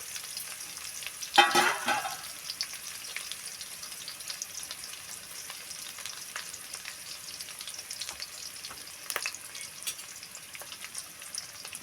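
Spices and dried red chillies sputter in hot oil for a traditional Telugu kalagura tempering, a sharp crackle burst early, then a steady fine sizzle with occasional pops, close and alone.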